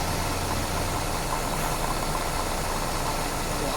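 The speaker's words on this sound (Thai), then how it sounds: "เสียงคอมแอร์หลังจากที่สตาร์ทรถทิ้งไว้นานๆ" Steady mechanical hum of a Subaru XV's air conditioning compressor running alongside the engine after long idling, loud and constant with a broad droning noise throughout; compressor noisy from a refrigerant leak.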